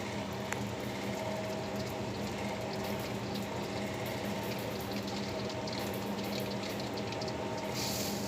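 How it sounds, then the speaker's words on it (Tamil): Mustard seeds splutter in hot oil in a pan for Tamil village-style egg semiya, giving a steady, dense sizzle with scattered faint pops throughout and no speech. "கடுகு பொரியுது."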